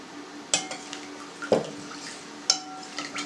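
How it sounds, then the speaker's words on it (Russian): Utensil clinking and scraping in a bowl as olive oil, salt and sugar are stirred into a sourdough bread dough mixture; a few sharp knocks stand out over soft mixing, close by, with no voices. "Перемешиваем так, чтобы у нас растворилась наша соль и сахар, чтобы они не были крупинками"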